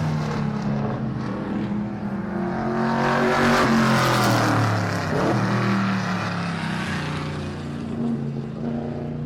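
Car engine sample used for music, a loud, close revving roar that swells and falls with a rising and falling pitch, continuous throughout.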